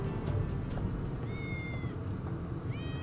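A cat in the video game Final Fantasy VII Remake meows twice, soft rising cries over a low rumbling game ambience.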